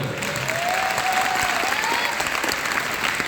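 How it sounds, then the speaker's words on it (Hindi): Loud, sustained applause from an Arya Samaj Vedic bhajan audience in Hisar, Haryana fills the whole moment, dense clapping with no breaks. "इनके लिए जोरदार ताली बजाओ।"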